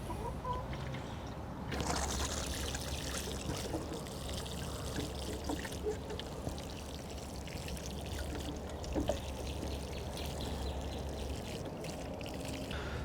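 Recycled water runs by gravity into watering cans in a garden, a steady continuous trickle and pour throughout, with chickens clucking faintly in the background.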